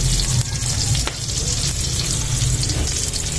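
Cooking oil sizzles steadily in a frying pan for a Filipino ginisang corned beef with potato, a loud continuous hiss with a low rumble beneath and faint scraping stirs.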